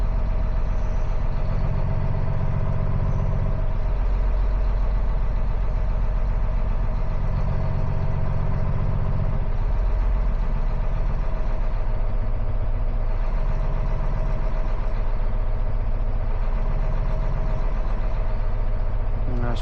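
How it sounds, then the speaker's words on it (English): A Cummins ISL9 diesel engine idles steadily during EGR sensor diagnostics, a heavy low rumble with a faint, slow cyclical shift in pitch as the idle speed changes, loud and continuous throughout. "Alright, our engine's idled up."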